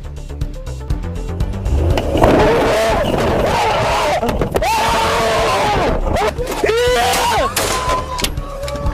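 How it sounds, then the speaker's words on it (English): A car strikes a sheriff's deputy during a traffic stop, captured on a body camera: loud, chaotic noise with engine roar and tire scraping, followed by shouting voices and continuous clattering commotion. "insane body cam video showing the moment a sheriff's deputy is hit by a car"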